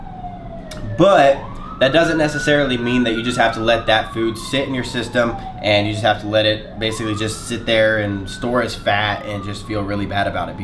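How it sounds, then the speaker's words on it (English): A siren wails in the background, its pitch sweeping up and down repeatedly throughout while a person talks continuously over it. "I'm sorry if you can hear the siren right now."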